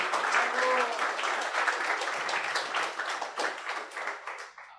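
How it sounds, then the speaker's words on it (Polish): A conference audience at the Security BSides event claps for the organizers, dense, steady applause that rings out for several seconds and then thins and fades, with a voice faintly audible beneath it. "te brawa mają iść dla organizatorów Security Besides"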